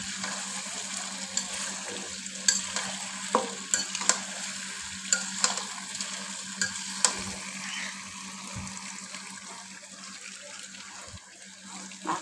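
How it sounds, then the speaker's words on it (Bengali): Duck meat and potatoes with spices are stirred in a frying pan, producing a soft sizzle under scattered scraping clacks of the spoon; close, fairly quiet, no talking. "আলুগুলোর সাথে মশলাগুলো, মাংসগুলো খুব ভালোভাবে নেড়ে নিচ্ছি"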